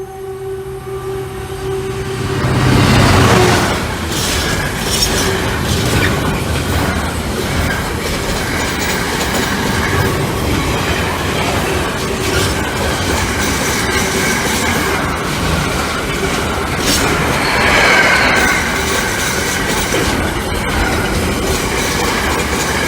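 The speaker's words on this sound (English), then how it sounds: "the 13:37 Lincoln Central to Leicester has 1 carriage" A single-carriage passenger train, the 13:37 Lincoln Central to Leicester service, rumbles past a level crossing at Saxilby, with a steady loud roar, wheel clatter and squealing rails, and no talk.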